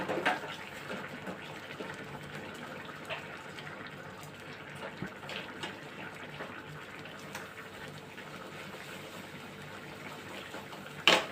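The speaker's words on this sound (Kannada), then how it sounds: "ಸ್ವಲ್ಪ ನೀರು ಹಾಕಿ ನೋಡಿರಿ" Water runs into a pot of cooking vegetable curry as a soft, continuous splashing trickle, fairly quiet and steady, with a small bump near the end.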